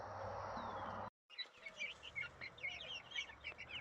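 Young hens about five and a half weeks old chirping in high, quick peeps after a brief cutout, scattered and fairly close over a soft background hiss.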